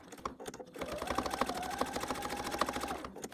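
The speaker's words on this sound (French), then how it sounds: "Et tu surpiques comme l'autre côté." A sewing machine topstitches a flat zipped pencil case with a quick, steady run of rhythmic mechanical clatter for a couple of seconds, fairly quiet and close, starting and stopping abruptly.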